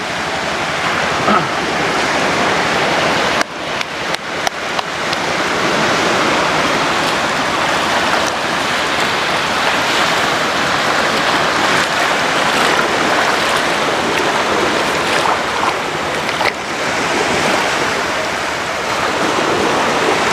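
Continuous loud roar of ocean surf breaking and washing in on Pantai Asem Doyong beach in Pemalang, Central Java, with a few brief thumps, dense and steady throughout.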